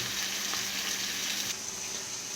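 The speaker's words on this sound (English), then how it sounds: "while the bacon cooks" Bacon fries in a pan with a loud, continuous crackling sizzle, steady and close throughout, with no voices.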